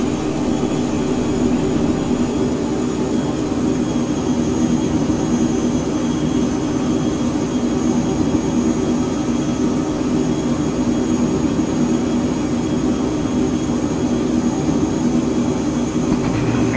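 Steady, loud jet roar from the Phenom 100's twin engines at climb thrust in Microsoft Flight Simulator, a constant broadband whine and rumble from the cockpit with no talking.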